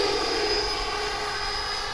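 Freewing B-2 Spirit model bomber with twin 70mm electric ducted fans cruising at about half to 60% throttle, a steady airborne whoosh with a thin whine, continuous and unbroken.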